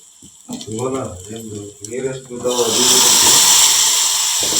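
Homemade garam masala and turmeric powder hit hot tempering oil, and a loud, steady sizzle erupts and holds to the end, right after a person finishes speaking.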